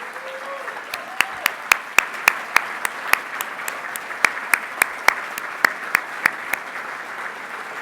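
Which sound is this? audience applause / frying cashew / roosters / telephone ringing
audience applause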